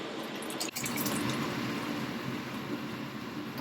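Water pours steadily into a pan of chopped tomatoes for Bolognese sauce, a continuous splashing stream with a brief knock near the start and no talking.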